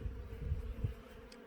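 Honey bees buzzing around an open hive, a low, steady hum with soft swells, faint and continuous.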